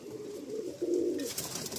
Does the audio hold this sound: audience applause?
no